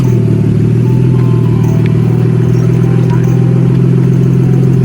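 Nissan Skyline R34 engine while driving, a loud, steady low droning rumble heard up close inside the car with no talk.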